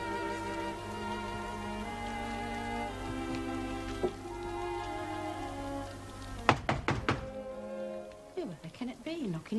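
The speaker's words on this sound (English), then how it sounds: "Can it be knocking at this hour?" Knocking on a door in a 1980s TV drama, a few dull thunks under music and a background tone, followed by voices talking.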